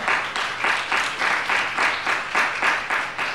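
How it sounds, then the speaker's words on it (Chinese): A church congregation at a Saturday worship service clapping together in a steady rhythmic beat, loud and close, with no talking over it. "用掌声献给耶稣啊"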